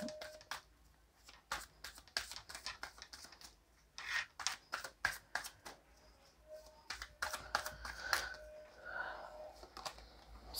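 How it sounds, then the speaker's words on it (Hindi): Tarot cards drawn and laid down from a deck, a quick run of crisp dry clicks, flicks and shuffles, close and fairly quiet, with busier card handling late on. "हम कार्ड निकालते हैं"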